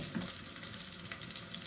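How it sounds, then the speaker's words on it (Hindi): Onion fries in oil in a pan while a Pakistani-style chicken and mash dal is being made, a steady close crackling sizzle with occasional small pops and no talking. "तो एक प्याज डाला है, ये ब्राउन होगा"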